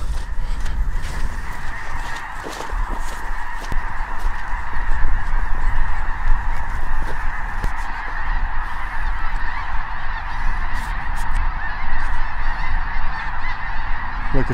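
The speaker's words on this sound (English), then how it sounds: "There are so many geese here. They're everywhere." A huge flock of snow geese honks continuously and loudly in a dense, overlapping chorus, with near and distant calls layered throughout a hunting field.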